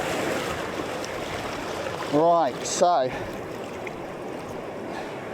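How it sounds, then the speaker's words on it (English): Sea water washing in over sand on a beach, a steady close hiss of wash throughout, briefly interrupted by someone speaking over it. "So here comes the water. Right, it's hitting me now."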